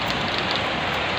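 Heavy rain pours down in Qatar, a dense, continuous broadband hiss of drops striking surfaces nearby, steady and loud throughout the brief moment.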